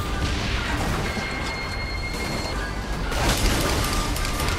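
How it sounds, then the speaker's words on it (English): Rumbling, crashing blasts and booms in a noisy Saints Row 3 video game action scene, with a swell of louder destruction near the end and faint electronic tones. "With the destruction and explosions our audience is seeing here today, Professor Genki must be really pleased."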